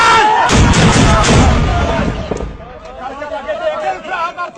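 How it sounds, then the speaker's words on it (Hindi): Mortar fire from an army position booms out in a heavy, loud blast that rolls away into rumbling echoes, with shouted voices and crowd chatter afterward. "शाबाश रेडी है मोटर फायर"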